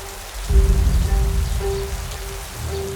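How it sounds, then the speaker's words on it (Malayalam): Cartoon rain pours over a jungle, building toward a flood. A steady rainfall hiss with a low rumble and a sustained tone carries throughout, fairly loud and without voices. "പിന്നെയും മഴ കൂടിക്കൊണ്ടിരുന്നു"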